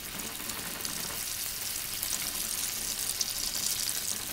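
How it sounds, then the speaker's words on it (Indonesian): Chicken cordon bleu frying in oil gives a steady, dense sizzle that stays even and fairly loud throughout, with no voices. "Jadi langkah berikutnya kita goreng chicken cordon bleu-nya."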